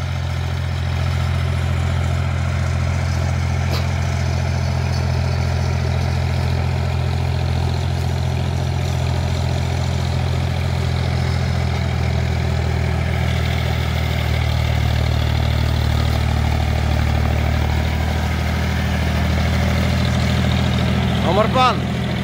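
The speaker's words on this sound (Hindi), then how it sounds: "देखो ट्रैक्टर खुल के चल रहा है, बिल्कुल नहीं दब रहा।" A John Deere 5050D tractor engine runs steadily under load in a field with rotary equipment. A loud, constant low engine drone holds for the whole stretch with no pauses, and background voices are faint or absent.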